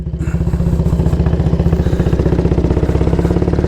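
A 1938 AJS Model 22 250cc single-cylinder motorcycle runs steadily while riding, its engine thumping in a fast, even rhythm with mechanical clatter, loud and close throughout.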